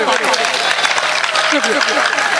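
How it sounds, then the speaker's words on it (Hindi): Steady audience applause at a kavi sammelan and mushaira poetry gathering, a continuous dense patter of many clapping hands throughout, with a voice faintly present underneath. "एक बार शाहाबुद्दीन अंसारी साहब के लिए तालियां।"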